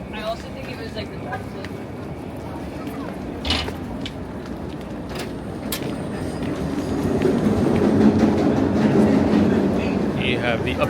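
A New York subway train on the Uptown and Queens R and W line running through a station. Rumbling and rattling clatter builds toward the end and stays loud, with someone speaking over it.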